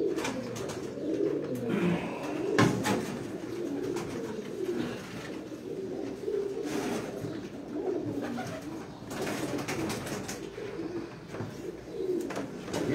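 Pigeons cooing at a market chowk, repeated soft throaty coos rising and falling close by over a busy background murmur, with occasional knocks and clatter.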